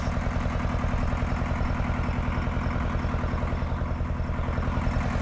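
An old Ford tractor engine chugs steadily nearby, a dense low rhythmic putter with clattering texture that holds constant throughout, with no voices.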